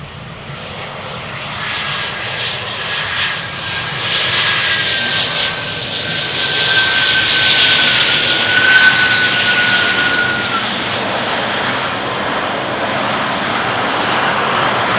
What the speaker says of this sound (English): one of the many Embraers from KLM City Hopper